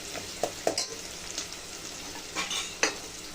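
Two finely chopped onions fry in a pan with a steady soft sizzle, broken by a few sharp clicks and scrapes of a spoon against the pan. No one speaks.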